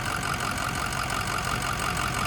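A lifted 2006 Ford F350 Powerstroke diesel idles warm on a hot day, a steady close loud clattering rumble with rhythmic knock and no talk.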